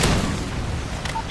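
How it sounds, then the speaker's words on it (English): A Predator missile strike detonates in Modern Warfare 3 multiplayer on the Interchange map: one heavy, loud boom right at the start, then a decaying rumble with faint game sounds. "Friendly Predator missile inbound"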